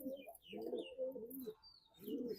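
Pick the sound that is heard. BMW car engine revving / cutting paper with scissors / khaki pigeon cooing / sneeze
khaki pigeon cooing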